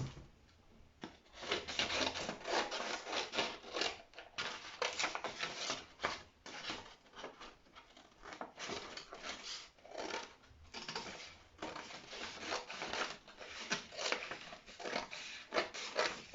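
Fabric cut by hand with scissors while drafting a women's shirt, a run of soft close snipping and rustling strokes in a quiet room, uneven in rhythm and fairly faint.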